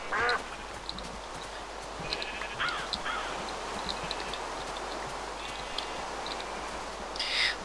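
Harsh cawing calls from a bird in the video game Minecraft. Short rough calls come at the start, in the middle and at the end, over a soft, steady rain-like hiss.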